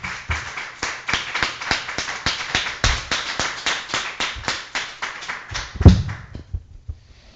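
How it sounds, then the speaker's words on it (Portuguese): A church congregation claps in a steady, even rhythm of sharp hand claps, about three per second. The clapping is loud and close, then fades out toward the end. "Vamos dar uma salva de palmas para essa palavra?"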